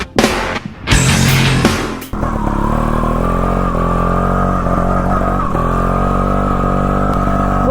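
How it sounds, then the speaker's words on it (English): A 2010 GasGas TXT 280 Pro trials motorcycle engine idles and revs close by. After a couple of sharp bursts it settles into a steady, continuous drone, with no talking. "Today I'm riding my 2010 Gas TXT 280 Pro."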